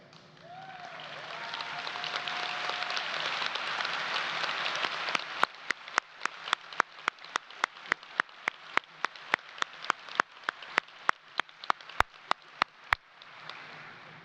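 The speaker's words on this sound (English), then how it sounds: "Mrs. Horn, please stand for a round of applause." A high school commencement crowd gives a long round of applause for an honored guest; dense, sustained clapping thins out into scattered individual claps before dying away.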